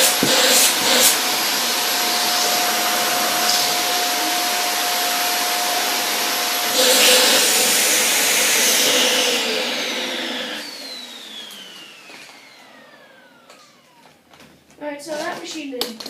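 A six-month-old Hoover vacuum cleaner runs during a suction test, a loud steady close whine and airflow roar with a shifting pitch, then powering down and winding off with a falling tone, followed by brief clatter.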